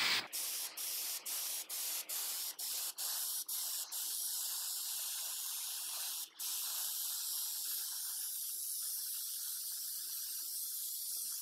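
Spray can laying a thick, wet coat of paint onto homemade Predator cosplay armor, a steady close hiss cut by a run of short bursts at first, then one long continuous spray.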